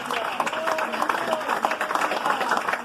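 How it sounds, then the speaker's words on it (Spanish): A church congregation bursts into a strong round of applause during a worship service, brisk, crowded clapping that stays loud and steady for the whole stretch. "¿Cuánto le damos ese fuerte aplauso al Señor?"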